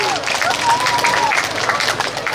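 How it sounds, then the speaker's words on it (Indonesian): Crowd applause at the opening of the Tanggamus Expo, an outdoor regional fair: a dense, steady wash of clapping fills the whole stretch at a loud, even level, with a voice carrying over it. "Tepuk tangan untuk kita semua."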